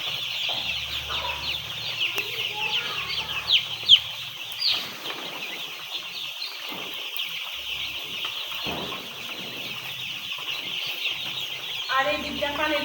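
Chicks in a brooding house under heat lamps, a dense chorus of high peeping and clucking running throughout, with scattered faint thumps and rustling nearby.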